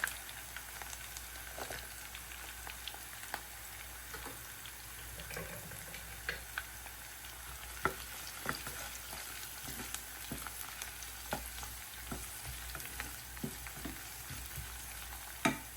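Garlic frying in a pot for a Guyanese dhal and rice meal, a quiet continuous sizzle dotted with faint scattered pops and clicks throughout, heard close with no voices.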